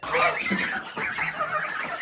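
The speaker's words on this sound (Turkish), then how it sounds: "Büyük kazlarımız vardı." Large geese honk inside a barn, a near and fairly loud run of overlapping nasal calls that keeps going with only a brief dip in the middle.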